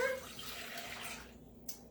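Two cups of milk poured into a pot for broccoli cheddar soup, a brief close liquid splash that fades after about a second, leaving quiet kitchen room tone.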